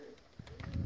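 A pigeon gives a short, soft coo outdoors, faint and brief, with flocks of pigeons flying around in the area.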